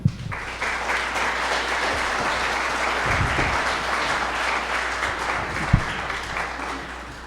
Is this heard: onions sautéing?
no